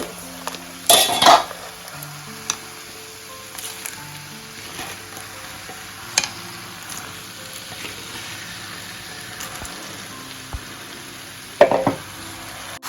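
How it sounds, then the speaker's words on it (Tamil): One kilo of crab goes into a pan of masala, giving a couple of sharp clattering thumps of shells against metal, then a low steady sizzle with occasional utensil clinks, close and without talk. "நான் இப்போ நண்டு போட்டுருவேன் இது ஒரு கிலோ நண்டு"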